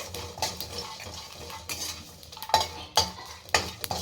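Peanuts and cumin seeds stirred and fried in a pan, with repeated scraping and clinking strokes of a utensil against the metal over a soft background sizzle, close and alone.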